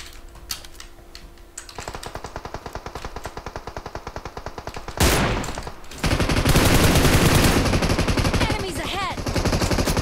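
Rapid automatic gunfire from PUBG Mobile rattles in dense bursts, starting lighter and swelling into loud, sustained volleys near the middle and end, with faint voices underneath.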